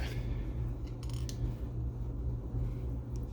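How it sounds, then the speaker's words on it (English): Scissors snip through the backing of double-sided tape during a repair of Christmas inflatable lights, two or three brief crisp cuts near the start over a loud steady low hum, close and quiet, with no talking. "I'm going to go ahead and just cut through the backing here."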